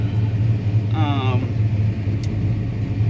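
Car with a small-block Ford engine being driven, giving a steady, loud low rumble throughout with a brief voice-like sound partway through.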